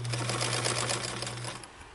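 A Bernina 830 sewing machine stitches in reverse on a 2.5 zigzag setting with a short stitch length, giving a quick, even whirring patter for about a second and a half before stopping. It is close and fairly quiet, with no talking.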